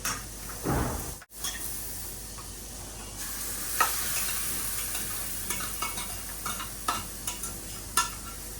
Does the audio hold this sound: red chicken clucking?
no